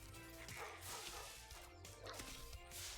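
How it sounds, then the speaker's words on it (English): Dogs bark in Spyro the Dragon (Reignited Trilogy), a few repeated yips and barks mixed into loud, dense game music and effects, somewhat buried rather than standing out. "We still got some dogs to deal with."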